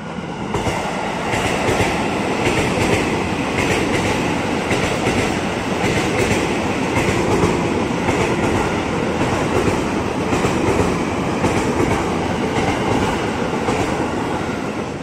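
A JR 205 series 12-car commuter train bound for Jakarta Kota passes a busy level crossing in Depok, a loud continuous rumble with wheel clatter that lasts the whole time, with no voices.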